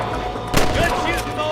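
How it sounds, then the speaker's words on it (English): Gunfire in the video game Red Dead Redemption, a burst of sharp shots and ricochet-like whines over a noisy background, with a voice partly audible alongside. "Good shooting, boy."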